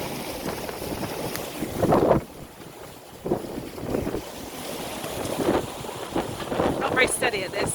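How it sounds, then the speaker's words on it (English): Strong wind of nearly 20 knots buffets the microphone aboard a fast sailboat heading from Plymouth to the Helford river. Water rushes and splashes against the hull in steady, gusting surges. "Not bad considering it's nearly 20 knots of wind."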